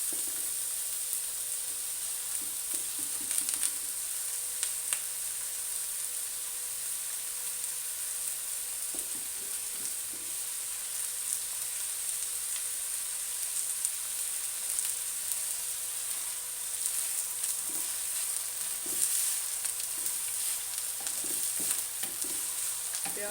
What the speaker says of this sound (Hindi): प्याज हमारा हल्का हल्का ब्राउन होना शुरू हो गया।